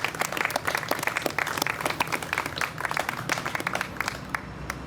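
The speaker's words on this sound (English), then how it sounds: "Can I get a big round of applause for those guys and the work they're doing?" An outdoor crowd at the opening of a Salt Lake City police substation applauds police officers with steady, moderately dense clapping that carries evenly for about five seconds.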